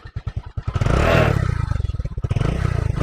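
A motorcycle engine, just fitted with a high-amp battery, sputters through a few uneven firing pulses, then catches and revs up loudly before settling into a rapid, throbbing idle close by.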